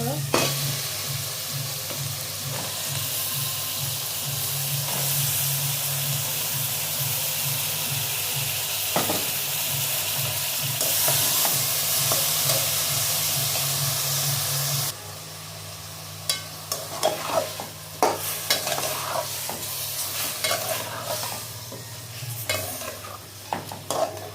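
Meat frying with spices for biryani sizzles loudly and steadily in a pan, with regular stirring scrapes through the first half. After that the sizzle softens and is broken by sharper clanks of the spoon against the pot.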